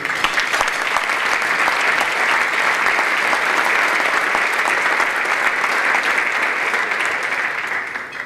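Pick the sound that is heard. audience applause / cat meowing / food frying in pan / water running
audience applause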